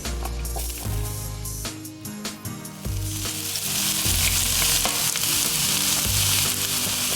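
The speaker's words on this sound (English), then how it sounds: "I put my onions and my carrot in the pot and let it saute" Onions and carrot sautéing in a hot pot, a loud steady sizzle with repeated scraping stirs and low thumps of the spoon against the pot, heard up close with no voices.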